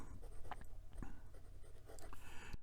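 A Moonman Q1 fountain pen with a fine nib moves across paper in short, faint, dry strokes with noticeable drag, heard close and quiet.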